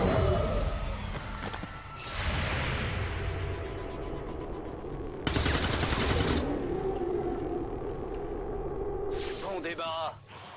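Gunfire in XCOM 2 War of the Chosen: heavy bursts of automatic fire and booming shots erupt in a few loud blocks over a rumbling backdrop, with a voice speaking beneath them.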